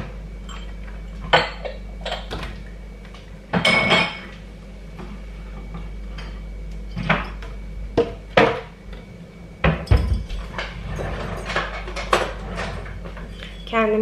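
A large glass cup and a teapot are set down for tea, giving a few sharp clinks and knocks with quiet gaps between them.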